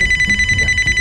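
A phone rings in a rapid, warbling electronic trill, loud and close, repeating in quick pulses over some low background noise during a Nigerian comedy skit.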